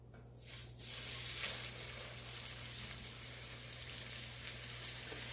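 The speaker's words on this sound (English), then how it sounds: "And now I'm going to put these pork steaks in the pan." Pork steaks sizzle steadily in a hot pan, a continuous close hiss with a low hum beneath and a brief louder burst at the start.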